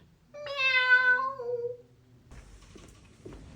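A grey cat gives one clear, fairly close meow that rises and then falls away, with a faint rustle of background movement afterward and no talking.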